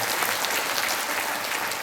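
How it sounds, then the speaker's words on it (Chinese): Steady applause from a church audience welcoming a congregation at an Easter gathering, a dense continuous patter of many hands clapping at even loudness with no talk over it. "我们为他们拍掌"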